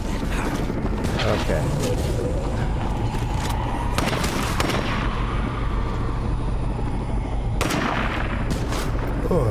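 Gunfire in the video game State of Decay 2, a series of sharp bursts cutting through a dense, continuous game soundscape with speech mixed in underneath.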